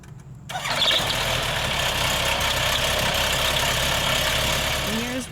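A light aircraft's propeller engine cranks and catches, then settles into a steady, loud running drone close by as a pilot prepares for a first solo takeoff.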